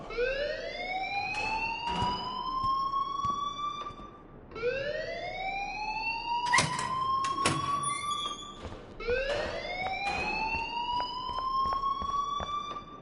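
A video game alarm wails in repeated rising sweeps, three long cycles at a steady moderate level, with a few sharp clicks between them.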